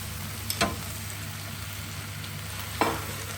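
Spinach wilts in a hot pan with olive oil and pasta, giving a steady, close sizzle with a couple of sharp clinks of a utensil against the pan and no talking.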